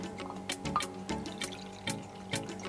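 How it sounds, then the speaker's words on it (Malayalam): A quarter cup of water is poured into a small pan for heating jaggery, giving soft splashing and a few dripping taps in close, quiet surroundings. "1/4 കപ്പ് വെള്ളമാണ് ഞാൻ ഇതിലേക്ക് ഒഴിക്കുന്നത്"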